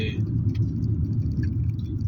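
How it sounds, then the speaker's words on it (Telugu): Travel buses pass on an early-morning road, heard as a steady low rumble of heavy engines and tyres. A faint voice sits beneath the drone. "ఇంకా ట్రావెల్స్ బస్సులు వస్తున్నాయి అనమాట"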